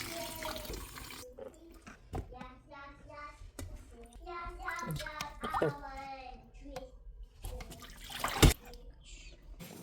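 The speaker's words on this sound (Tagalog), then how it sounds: "Atong eggplant, we have to rinse it and wash." Water running from a tap as an eggplant is rinsed and washed in a kitchen, a soft steady splash under someone talking, with a brief clatter near the end.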